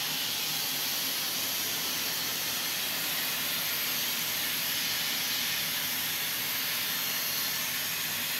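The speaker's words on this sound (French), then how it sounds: "il y a la vapeur qui s'échappe" Steam escaping in a continuous, loud, broad hiss that holds steady from start to finish without a break.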